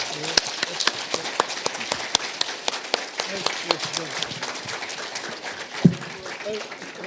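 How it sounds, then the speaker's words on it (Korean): Audience applause at a Korean forum marking the anniversary of the October 4 inter-Korean summit declaration: steady, dense clapping from a crowd in a hall, with sharp individual claps standing out and a low thump near the end. "이종석 장관님, 백종천 전 실장님, 그리고 정세현 장관님, 이재정 장관님 모두에게 뜨거운 감사의 박수를 드리는 것으로 마치겠습니다."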